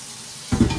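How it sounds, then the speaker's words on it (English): Hot water from a tap rushes into a kitchen sink, the steady hiss beginning abruptly partway through and staying loud to the end. "I'll fill the sink up with hot water as well"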